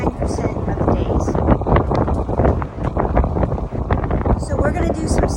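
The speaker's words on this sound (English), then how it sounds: "when you're hearing that wind sound, this is why" Steady wind blowing out on open water, a constant loud roar and buffeting across the microphone with no pauses, filling the whole stretch without talk.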